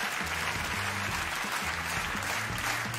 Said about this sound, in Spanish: Mira el aplauso.